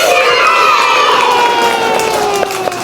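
A large crowd of children shouts and cheers loudly and continuously, close by, at a Children's Day celebration at a group of institutions in Huppuguda, Hyderabad.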